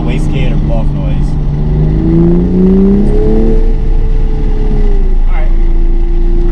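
Toyota A90 Supra accelerating with the windows down, a steady loud engine drone rising in pitch and then settling, with faint turbo whoosh and flutter mixed in.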